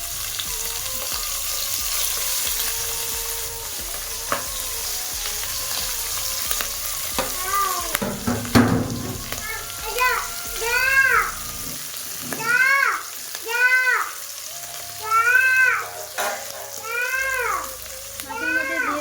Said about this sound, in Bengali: ওই তেলের মধ্যে দিয়ে দেবো মাছগুলোকে।